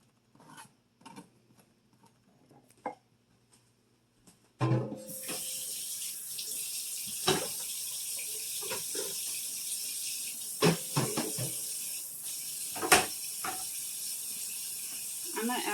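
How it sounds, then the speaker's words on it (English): Tap water runs steadily into a kitchen pot being filled to the rim, a continuous rushing stream that starts abruptly after a few seconds of quiet handling clicks, with occasional knocks and clatter over it. "Now we're going to add water and we're going to fill it to the rim"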